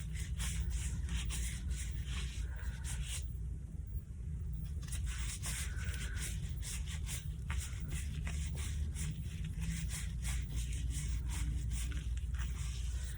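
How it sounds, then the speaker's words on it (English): Two hands rub and scrub together under handwashing, fingers interlaced and palms working over the backs, a continuous close wet friction with soft rhythmic swishes and a brief lull partway through. "interlacing our fingers, scrubbing the areas in between your fingers and the backs of your palms"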